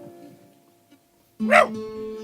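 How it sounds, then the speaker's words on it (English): A dog gives a single sharp bark that breaks a near silence, close and loud, over a faint steady tone. "suddenly Jack pricked up his ears and barked"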